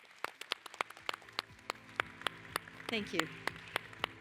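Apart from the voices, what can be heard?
audience applause for conference panel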